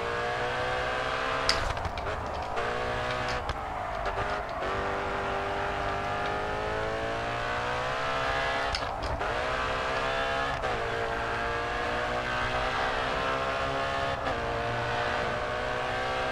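An Audi race car in the GRID 2 video game holds a steady, sustained engine drone with shifting pitch and occasional gear changes, loud and continuous with no talk over it.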